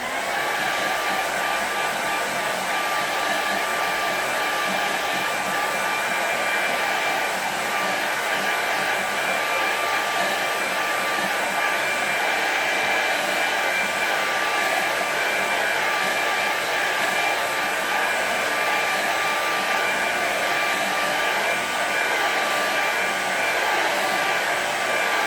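A hair dryer blows steadily over a watercolour painting of Rannoch Moor, a loud continuous whirring hiss that runs unbroken at even strength for the whole stretch with no talking.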